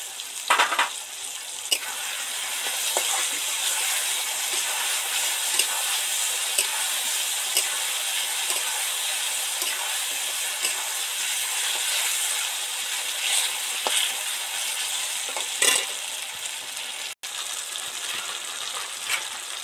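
Potatoes sizzle in oil in a pan while ginger garlic paste is added, making a loud, constant hiss broken by occasional clicks and stirring scrapes.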